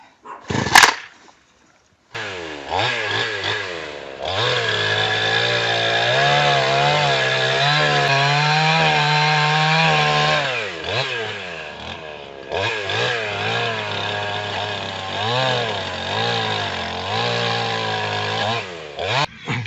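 A GRASSER GGS 3500 petrol chainsaw starts with a sharp pull, then buzzes steadily and loudly as it cuts wood, easing briefly before bogging back into the cut.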